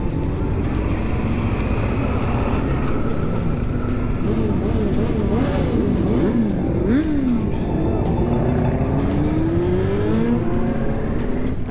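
Many motorcycles rev and roar through the city streets at the Vilnius bikers' season-opening ride. Engine notes rise and fall in overlapping waves over a constant, loud crowd-and-traffic rumble.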